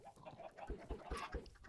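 Chickens clucking close by, short repeated clucks and chatter with a few low thumps in a steady rhythm, no talking.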